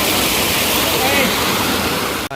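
Water pours down from above near a Girnar hillside Mahadev temple in Junagadh, a loud, steady roaring rush close by that fills the whole stretch.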